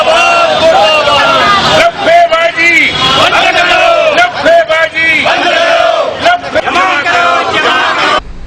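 A large crowd at a street protest against the Modi government chants slogans in unison. The rhythmic shouting is loud, close and continuous, with the group's voices rising and falling together throughout.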